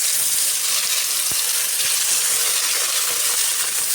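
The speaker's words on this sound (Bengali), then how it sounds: "দেখো তেল একদম গরম হয়ে গেছে। এবার আমি মাছগুলো আস্তে আস্তে করে ছেড়ে দেব।" Pieces of bata fish slipped into hot oil in a kadai for a thin fish curry produce a loud, continuous hissing sizzle throughout, with one sharp click partway through.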